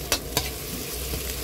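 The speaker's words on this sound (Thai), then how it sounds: "ผัดให้หอม" Chili and garlic stir-fried in a hot pan with a spatula, two quick scraping stirs over a steady close sizzle, brief and without talk.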